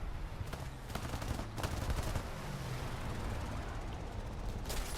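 Rapid bursts of automatic gunfire rattle through a combat video game, several volleys firing in quick succession amid a steady rumble of battle, moderately loud with no clear talk.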